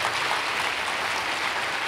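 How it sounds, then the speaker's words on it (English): A church congregation applauds in a dense, steady wash of clapping that holds evenly at close range and loud level throughout, with no gaps. "Clap for Jesus one more time"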